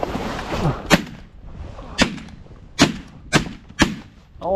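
Shotgun blasts at incoming mallard ducks during an ice storm hunt, five sharp loud reports spaced roughly a second apart, with faint background noise between shots.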